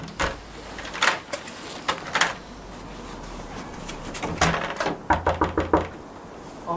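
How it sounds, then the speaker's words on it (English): A door is locked and then rattled, giving scattered knocks and clunks followed by a quick series of sharp rattling taps near the end, close by with no talk. "I'm locking the door."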